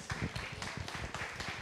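A church congregation at Shinjuku Shalom Church claps to welcome a pastor to the pulpit, a fairly faint, quick patter of applause continuing throughout.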